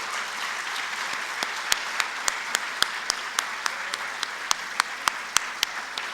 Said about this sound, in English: I would really like all of us to applaud the efforts of all our children here today.